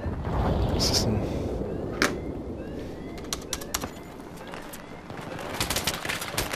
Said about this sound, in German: Hier und ich krieg voll die Schüsse ab.